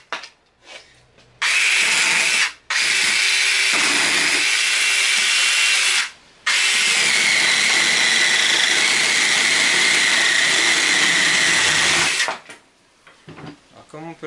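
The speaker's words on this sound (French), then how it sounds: "c'est une bonne tronçonneuse. Et on va pouvoir tester" A small Makita-style 18V battery chainsaw with an 8-inch bar runs loud and steady in two bursts, a short one and then a long stretch of several seconds, with quiet handling noise before and after.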